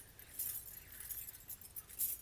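Faint metallic clinking and jingling of small acid-cleaned copper pieces knocking together, a few light bright chimes in quick succession.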